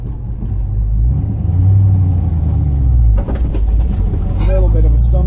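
A 1978 Chevrolet K5 Blazer idles at about 700 rpm after a cold start, a low, steady rumble close by, with a slight change in tone partway through and a brief stumble near the end.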